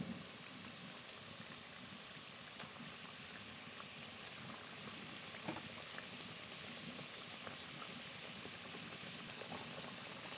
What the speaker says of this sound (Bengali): ঝোল ভালো করে ফুটে গেছে